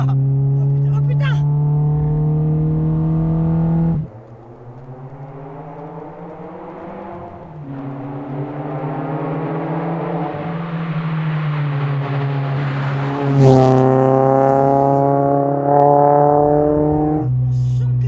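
A modified Peugeot 106 engine revs hard and close, its pitch climbing and dropping through several pulls with a raspy, buzzing exhaust tone; a voice is heard alongside.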